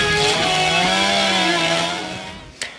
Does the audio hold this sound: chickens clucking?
no